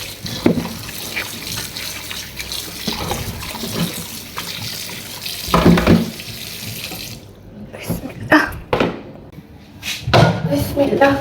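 Tap water runs steadily into a sink while meat is washed by hand, with splashing and clatter in a home kitchen, close and continuous, then broken into sharper splashes and bumps toward the end.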